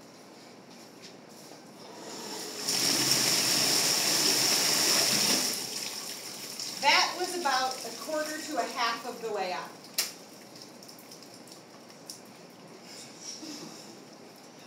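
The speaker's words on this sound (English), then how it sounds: "Yes, this is a power shower." A power shower sprays water during a decontamination drill, a loud hissing burst lasting about three seconds that cuts off abruptly. People then talk, with a few faint clinks and rustles underneath.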